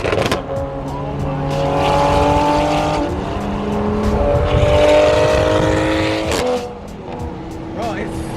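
A loud Toyota Supra engine revs and roars up close, rising and falling in pitch, with people talking over it.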